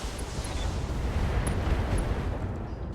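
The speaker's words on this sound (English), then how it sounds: "Firing all weapons." Mech weapons fire in BattleTech as a dense, continuous roar of heavy booming and rumbling blasts, loud and sustained throughout with no clear gaps.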